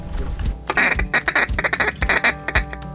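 Ducks quack loudly and close during a late-season duck hunt, a rapid run of harsh, overlapping calls in quick bursts with no talk.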